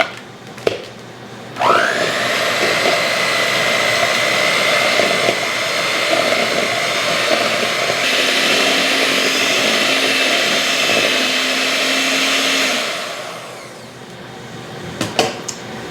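An electric hand mixer runs steadily for about eleven seconds, whirring as it beats home-canned white potatoes with a splash of milk in a bowl, its pitch dipping and rising as the beaters work through the lumpy mash before switching off.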